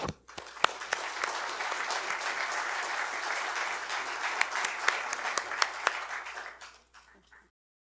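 An audience applauds to welcome Ambassador Chas W. Freeman Jr., a steady burst of clapping from a crowd with a few sharper claps standing out, lasting several seconds before fading out.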